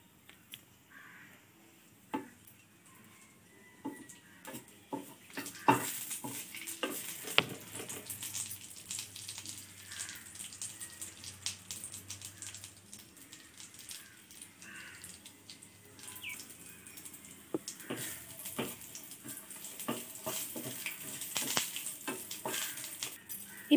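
Cashew nuts fry in a pan for rava kesari, with a faint crackle under repeated clicks and scrapes of stirring, which grow busier and brighter later on; quiet and close.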